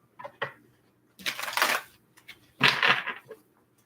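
A deck of tarot cards is shuffled in two quick riffling bursts after a couple of soft taps, close and crisp against a quiet room.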